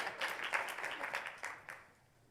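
A membership meeting audience applauds a volunteer with a brief burst of clapping that fades out after about two seconds, fairly faint and distant.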